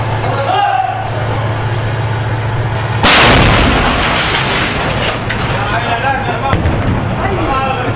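Tank gun firing in combat in Syria, a single sudden heavy blast that decays over a few seconds, with an engine droning beforehand and a voice talking over it.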